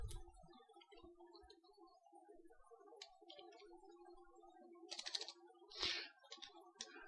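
Quiet, rapid clicking of a computer keyboard with sticking keys, a fast irregular patter of keystrokes broken by a few louder clacks, close up and with no talking.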